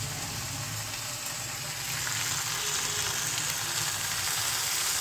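Malabar spinach tossed into a fish-head mixture frying in a pan, a dense steady sizzle and crackle that swells slightly as the leaves go in, close and without talk.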